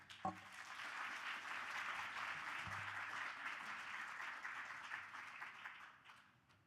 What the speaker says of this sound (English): let's give another round of applause for our main division finalists